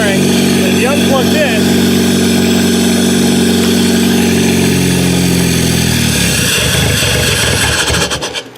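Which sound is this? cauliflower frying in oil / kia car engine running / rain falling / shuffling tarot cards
kia car engine running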